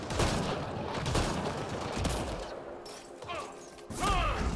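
Gunfire rattles through a match of the battle-royale shooter Apex Legends, dense bursts of shots and impacts running nearly nonstop, easing briefly before another loud volley at the end, with a player talking over parts of it.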